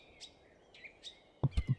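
Crow calls from a Minecraft Valhelsia 3 modpack mob, three short, faint caws spaced apart, ending in a few louder thumping hits, with no talk.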